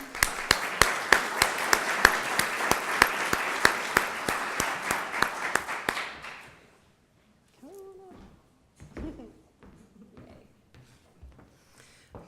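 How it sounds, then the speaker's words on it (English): An audience at a distinguished alumni awards ceremony claps for an honoree, Dr. Deborah Metz, in a steady, rhythmic burst lasting about six seconds, after which the room goes quiet and a person speaks. "Let's clap for her"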